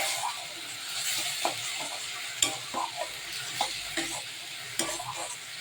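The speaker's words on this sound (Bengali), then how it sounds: "আদাটা একটু দিয়ে সর্ষে পোস্তটা দিয়ে দিলাম আর দিয়ে ভালো করে আমি একটু নেড়ে নিই" A spoon stirs a ginger, mustard and poppy seed paste in a frying pan, with a soft continuous sizzle under irregular scraping strokes, close and moderately quiet, with no talking.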